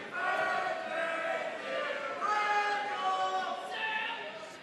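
A basketball crowd in a high school gym serenading player Randall Shaw, many voices singing together in a sustained, somewhat distant chant that fills the whole stretch.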